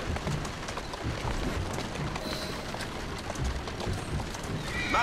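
A horse in Assassin's Creed Syndicate whinnies while its hooves clatter in a quick galloping clip-clop, close and continuous over a soft, rain-like background hiss.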